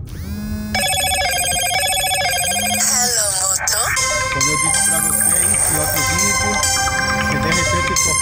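A mobile phone ringtone plays inside a moving car on a city street, a loud repeating melodic tone in a regular rhythm over low road rumble, with people talking over it.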